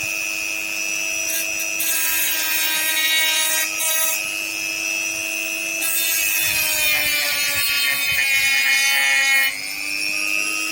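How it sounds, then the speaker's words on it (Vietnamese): A blade cuts steadily along a marked line on a workpiece, producing a loud, close, continuous whining rasp with only slight changes in pitch and no breaks. "Bây giờ cứ theo cái dấu này mà cưa thôi các bạn nha."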